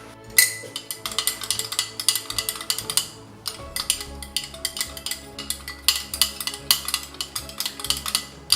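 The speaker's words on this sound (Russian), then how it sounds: "Ложечку и тщательно все размешиваем так, чтобы эмульсия стала однородной, без всяких комочков." A spoon stirring egg yolk emulsion for egg tempera paint, quick rhythmic clinks against the bowl repeating steadily and close up, with no talking.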